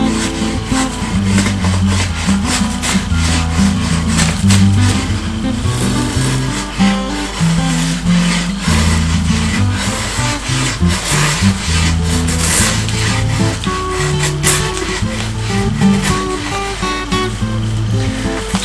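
Bowie knife carving wood into fire-starting shavings, heard as close, repeated scraping and rasping strokes in an uneven rhythm, fairly loud and with no voice over them.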